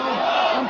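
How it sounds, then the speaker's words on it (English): Dense crowd voices chant together in the street for visiting Soviet leader Gorbachev, a loud, sustained roar of many people with no gaps. "The crowds chanted for the visiting Gorbachev, not for their own die-hard leaders"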